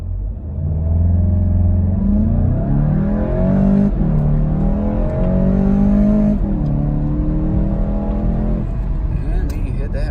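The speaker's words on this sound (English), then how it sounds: "we'll do a little boosted launch here and see our time" A 2019 VW Golf GTI Rabbit Edition makes a boosted launch from a standstill, its engine note climbing through rising gears with brief dips at each shift, loud and close throughout as it accelerates hard toward 60 mph.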